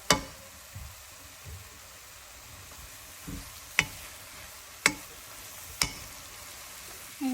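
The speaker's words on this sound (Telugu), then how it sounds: "ఇప్పుడు ఇది కూడా బాగా ఫ్రై చేసుకోవాలి." Shredded cabbage and coconut fry in a pan, a steady soft sizzle broken by a few sharp clicks and scrapes of a spoon stirring, with no talk over it.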